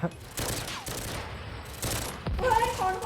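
Bursts of pistol fire from Call of Duty Mobile crack out in several loud clusters over in-game ambience, while a voice talks faintly beneath the shots.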